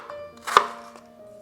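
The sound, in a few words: chopping peeled apples into small pieces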